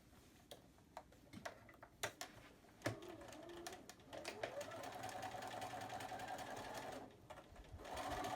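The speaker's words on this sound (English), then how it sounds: "I'm just going to sew right along where the charm squares are joined together" A sewing machine stitches in the ditch along the seams of joined charm squares for a tote bag, making a close, rapid mechanical whir with ticking clicks and short pauses between runs.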